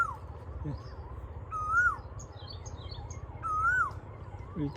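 A bird mimics an ambulance siren in a warbling pattern that rises and falls, with two sharp whooping notes and light chirps, moderately quiet over background hum.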